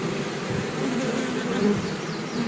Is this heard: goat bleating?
no